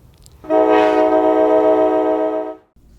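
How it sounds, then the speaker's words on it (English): A train on the Nevada Southern Railway line sounding a loud, steady horn blast of about two seconds, rich and close, starting and stopping abruptly over faint background rumble. "riding the rails on the Nevada Southern Railway line"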